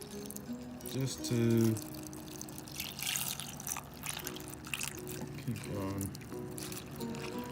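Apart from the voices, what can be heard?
water poured into rock tumbler barrel with plastic pellets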